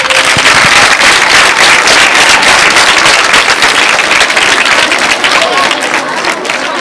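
Loud, dense crowd applause fills a school gathering for a top-scoring pupil, with sustained clapping and cheering throughout that eases slightly toward the end.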